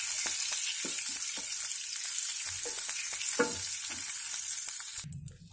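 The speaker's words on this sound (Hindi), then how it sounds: "घी मेल्ट हो गया है" Melted ghee sizzles steadily in a hot pan for suji halwa, with scraping stir sounds over the hiss, before the frying cuts off abruptly near the end.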